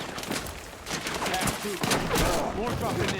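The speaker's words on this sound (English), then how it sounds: "Oh, I love the explosions." Dense bursts of gunfire and explosions from the video game Battlefield 6 crackle and thump in rapid succession, loud and continuous, with a voice talking over the combat.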